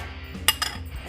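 A utensil scrapes and clinks against a bowl while mixing ingredients for homemade chicken treat cookies, two quick bright clinks amid soft stirring, close and fairly quiet, with no talk.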